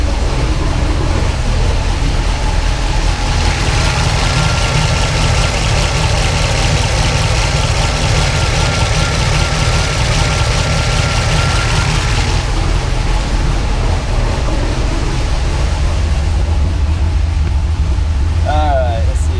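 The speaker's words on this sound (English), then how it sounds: "I just see a 700 RPM idle." A big block Pontiac engine in a Trans-Am idles at about 700 RPM, a loud, continuous low rumble that holds steady throughout, with a faint voice in the background near the end.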